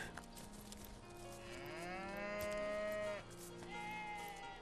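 Sheep bleating in the fantasy RPG Divinity: Original Sin, a long, wavering, drawn-out animal call rising over steady ambient game background noise, with a second shorter bleat at the end.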